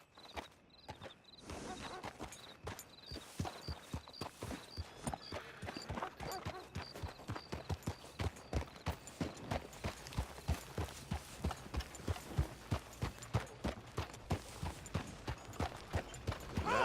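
Steady clip-clop of horse hooves in a video game, walking at an even rhythm, close and continuous throughout, with faint ambient background.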